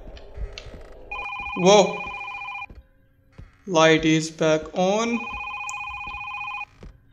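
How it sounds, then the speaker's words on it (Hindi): An old-style telephone rings twice in a horror video game, two loud electronic bursts separated by a pause, with someone talking over the game sounds in between. "फोन आ रहा है मुझे"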